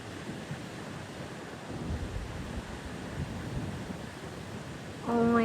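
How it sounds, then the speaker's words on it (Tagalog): Steady broadband wind roar in Bohol, Philippines, fills the clip, gusting slightly louder near the end as a voice briefly cuts in. "Ang lakas ng hangin."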